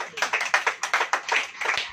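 Members of a church congregation clap their hands together in a quick, fairly even rhythm, about a dozen crisp claps over two seconds, close and moderately loud with no talking.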